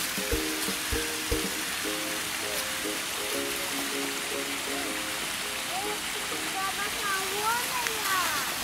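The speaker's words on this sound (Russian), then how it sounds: "Смотри, еще один водопад." A park waterfall roars steadily, a constant broad hiss with faint Russian voices murmuring underneath.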